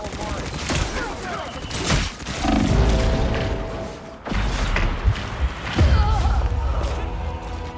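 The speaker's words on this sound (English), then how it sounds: "The rocket killed me?" A rocket explosion in a video game, played over a fast rapid-trigger keyboard, heard as several booming blasts and mechanical clanks amid busy game sounds, with a voice talking throughout.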